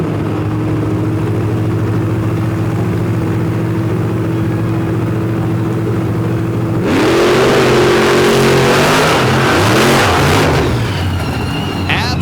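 Dirt drag racing cars rev and accelerate down a straight-line dirt track, a steady loud engine drone giving way to a roaring surge of acceleration about halfway through, with broad noise from the launch.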